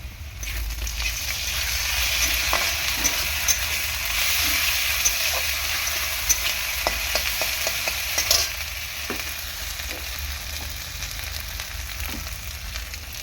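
Onion frying lightly in oil in a pan, a continuous close sizzle with intermittent stirring scrapes and small taps of a spoon, steady and fairly loud throughout with no voices.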